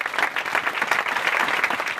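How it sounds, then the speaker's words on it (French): A church congregation claps during a Sunday worship service, a dense, steady round of applause from many hands, near and continuous throughout without a break. "on nous applaudit le Seigneur"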